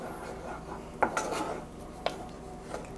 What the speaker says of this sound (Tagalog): continuous lang yung paghahalo natin para hindi dumikit yung ating strawberry sa pan